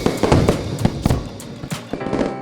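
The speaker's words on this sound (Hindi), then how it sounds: "सारे जानवर आसमान में फुलझड़ियाँ और पटाखे छुटाने लगे" Rapid bursts of Diwali firecrackers and fireworks pop and crackle in an irregular volley, loud and close, with sharp bangs overlapping one another.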